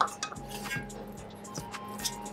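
Sweet miso going into a pan with utensils in a kitchen, heard as soft clinks and light scraping of metal on cookware, faint and brief with a low background hum.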